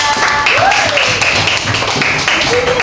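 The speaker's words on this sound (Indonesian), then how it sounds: "Tepuk tangan untuk kelompok tiga." A classroom group applauds a team during a quiz session, a short burst of dense, close clapping with voices mixed in.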